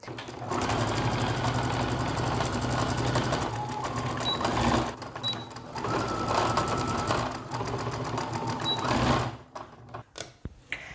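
A sewing machine stitches a neckline facing at a 1.5 seam allowance, running in steady sustained bursts with brief pauses between seams, loud and close, followed by a few soft handling clicks.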